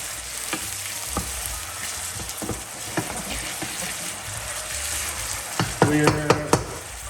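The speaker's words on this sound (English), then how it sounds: "We're going to get our onions into there. Get them all stirred up." A whole onion fries and is stirred in a pan for chicken jalfrezi, giving a steady sizzle with scraping stir strokes, and a burst of sharper clinks and scrapes near the end.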